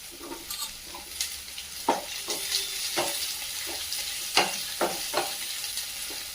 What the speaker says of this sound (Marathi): हे कांद्याचे तुकडे करून घेतले ते टाकत आहे आणि शिमला मिरचीचे तुकडे